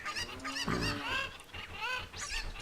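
Cucco chickens in The Legend of Zelda: Ocarina of Time, a few close, loud, harsh honking squawks in quick succession, with no voices present.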